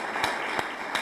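Audience applause after a lecture in an electoral procedural law course, a steady wash of clapping from the room with a few sharper, nearer claps standing out.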